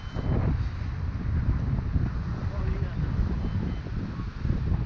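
Strong, gusty wind buffets close against the microphone outdoors while a Xiaomi Mitu FPV mini drone struggles in it, a steady low roaring rumble throughout, with a voice talking over it.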